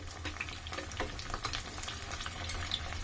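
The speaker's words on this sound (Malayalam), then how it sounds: "വടയായിട്ട് ഉരുട്ടി ഇത് പരത്തി എണ്ണയിലോട്ട് ഇടാം" Onion vada, flattened balls of onion batter, sizzles steadily in hot oil, a dense continuous crackle with scattered pops and light bubbling, close and moderately loud, with no talking.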